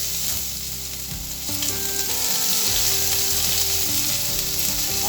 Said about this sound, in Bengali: এর মধ্যে অল্প একটু আদা বাটা দিলাম